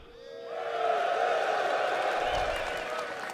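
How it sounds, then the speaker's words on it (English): Convention crowd at CitizenCon in Manchester Central cheering and whooping, a swelling roar that rises within the first second and holds loud before easing. "this is where you're all going to cheer"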